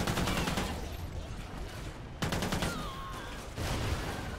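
Gunfire in Call of Duty Ghosts Extinction, aimed at a propane tank: loud, dense broadband bursts of shots that open the clip and return in two later volleys, with a brief high whine between them.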